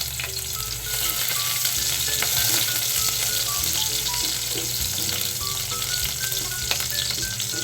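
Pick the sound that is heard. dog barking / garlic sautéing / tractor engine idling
garlic sautéing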